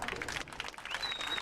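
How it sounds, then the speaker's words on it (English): A baseball crowd at Stony Brook Field applauds during a Cape Cod League game, a faint, distant wash of clapping and cheering that holds steady throughout. "the crowd applauds, comes to its feet at Stony Brook Field"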